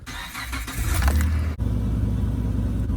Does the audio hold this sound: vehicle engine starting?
yes